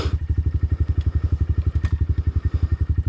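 A motorcycle climbs a hill in second gear, giving a steady, loud, rapid chugging exhaust beat with even pulses and no speech.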